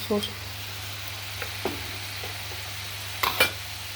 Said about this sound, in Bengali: সর্ষে পোস্ত আর জিরে আর শুকনো লঙ্কা বাটা, এটা দিয়ে দিচ্ছি। এটা দিয়ে একসাথে একটু কষে নেব।